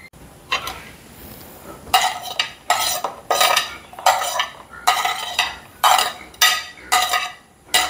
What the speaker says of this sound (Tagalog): Ihahalo ko na.